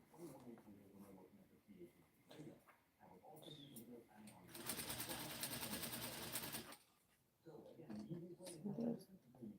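Sewing machine top-stitching the pocket of a homemade corny rainbow jumpsuit, a steady loud mechanical whir running a couple of seconds mid-clip, framed by quieter handling noises and a voice talking.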